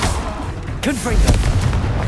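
A Confringo blasting spell in Hogwarts Legacy goes off as a short booming explosion over busy combat sounds and whooshing magic effects.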